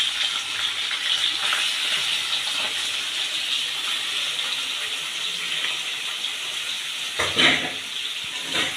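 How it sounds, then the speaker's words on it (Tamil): Continuous hissing sizzle of chicken frying in a pan of heated coconut for a village-style chicken chukka, steady and close, with a brief clatter near the end. "இப்போ தேங்காய் சூடாயிட்டு நான் கறியை போடுதேன்"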